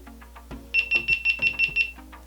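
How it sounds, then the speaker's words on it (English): A GoPro Hero 5 Black camera powering off gives a few soft clicks, then a run of seven evenly spaced, high, bright electronic beeps, close and clear. "Personally, I find the beeping really irritating and haven't found a way to turn it off"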